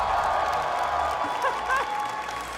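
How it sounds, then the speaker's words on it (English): Steady crowd applause fills the space, a dense wash of clapping with some murmuring voices mixed in. "Please give a huge round of applause to Yinsu!"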